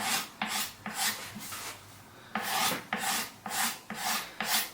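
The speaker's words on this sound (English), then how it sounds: "Just using a kind of rolling motion at this point with the file." A hand file rasping along a wooden guitar neck during a re-carve of the neck profile, in a steady rolling rhythm of about nine close, scratchy strokes with no talking.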